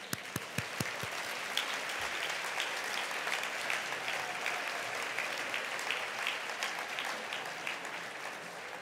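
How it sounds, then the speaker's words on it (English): A room of guests at a women's initiative gala applauding for volunteer consultants, a few sharp near claps at first, then a broad, even round of applause that carries on steadily. "would you please stand so we can give you a big round of applause"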